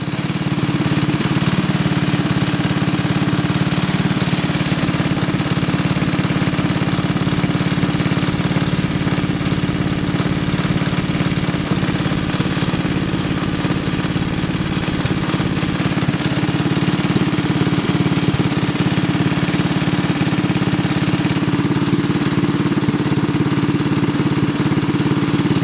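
A methanol-fuelled engine idling while it warms up, with a loud, steady, rough-edged rumble that holds constant throughout and no talking over it.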